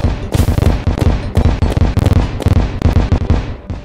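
Stinger weapon in the video game Terraria fires a rapid series of sharp, punchy bolt shots, about a dozen loud bursts in quick succession.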